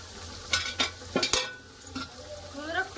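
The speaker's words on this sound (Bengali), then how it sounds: "এপাশে তো ওলকপি ভাজা হচ্ছে" Kohlrabi frying in hot oil in a pan, a low sizzle under sharp scrapes and clinks of a spatula against the pan, with a few faint voice sounds.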